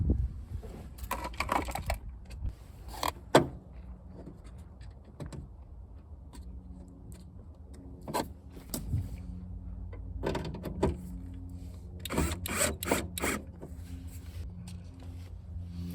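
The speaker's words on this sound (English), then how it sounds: "the central locking on this door should work" Short mechanical whirring bursts from a Mk2 Volkswagen Golf GTI central locking door actuator, several quick buzzes in clusters, close up amid light workshop clatter.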